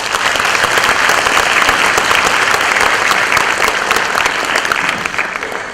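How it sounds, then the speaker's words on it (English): Loud, dense applause from the audience at a county school chorus concert, a sustained wash of many hands clapping for the school principals, continuing evenly and tapering slightly at the end. "Let's give them a round of applause."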